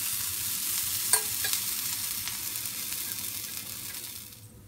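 Chickpea patties frying in oil in a pan, a close, steady sizzle with a brief clink near the start, fading slightly toward the end, with no voices.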